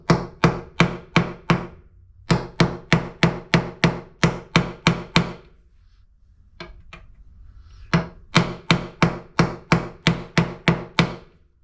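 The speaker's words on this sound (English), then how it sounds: "just take the caul, set it on top, and just hammer it into the caul" Guitar frets are hammered into a wooden caul, bursts of sharp, evenly spaced hammer blows, about a dozen at a time, separated by brief pauses with a few lighter taps between.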